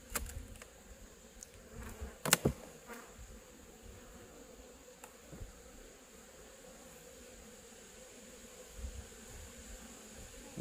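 Honeybees buzz steadily at an open hive during an inspection, a continuous low drone with a few sharp knocks and clicks early on, close but fairly quiet.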